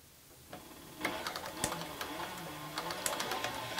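A Cobra Class 4 heavy-duty sewing machine stitches in short bursts, its quick mechanical clatter rising and settling as the presser foot moves, fairly close and without speech.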